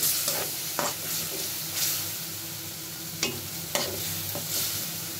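Shrimp being stir-fried in a pan for a Bengali curry, a steady sizzling hiss broken by intermittent scraping stirs of a spatula against the pan.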